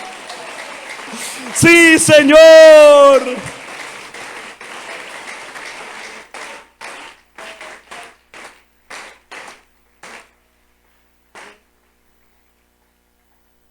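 A church congregation breaks into applause after a voice calls out in Spanish. The clapping fades to a few scattered, separate claps and then stops.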